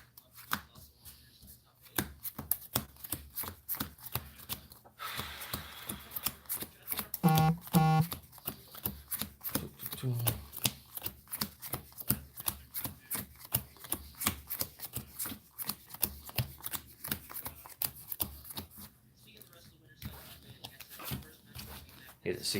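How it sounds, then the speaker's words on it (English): A deck of Cardfight!! Vanguard trading cards is shuffled during deck building, giving a run of soft, quick riffling and tapping bursts with short pauses, faint and close. "I need to shuffle this up more."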